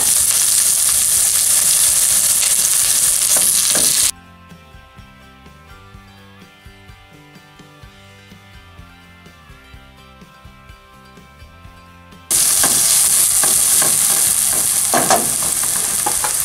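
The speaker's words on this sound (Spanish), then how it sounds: "echamos un poco de aceite, dejamos calentarlo para citronar las cebollas" Onions frying in hot oil give a loud, dense sizzle for the first four seconds and again for the last four, with a quieter musical stretch in between.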